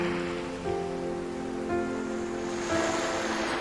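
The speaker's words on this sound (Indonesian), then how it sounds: "Suara laut" Continuous ocean surf, a broad hiss of waves washing in, with a soft sustained musical tone running underneath.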